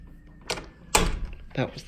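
A hotel room door at Embassy Suites Logan Airport in Boston swings open and shuts, giving a sharp close thump in the middle with softer handling noises before and after, near and moderately loud, with a voice present.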